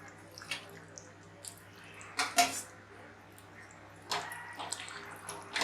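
Fried okra and capsicum being mixed in a pan for a bhindi masala gravy, with quiet scraping and clinks of a spoon against metal in scattered bursts, soft and close, no talking.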